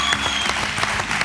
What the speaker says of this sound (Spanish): Un aplauso para Aikar.